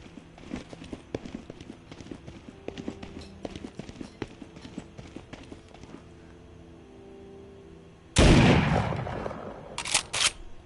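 A shotgun fires with one sudden, loud blast in a PS4 VR game, followed by short sharp mechanical bursts, after a stretch of quiet clicking and handling noises.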